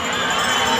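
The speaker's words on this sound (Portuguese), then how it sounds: "curtindo o barulho, o incentivo da torcida no estádio aquático" A crowd cheering at an aquatic stadium during the Troféu Maria Lenk 2016 men's 1500 m freestyle swimming heat, a loud, continuous wash of crowd noise.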